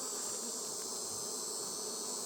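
Honey bees drone in an open hive, a steady dense buzz that holds evenly throughout, close and continuous with no voices.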